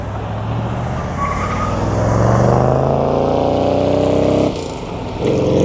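A 1967 Chevrolet Corvette with nearly 400 horsepower drives past, its V8 rumble rising as it nears and then falling away, with a short drop before the engine note picks up again.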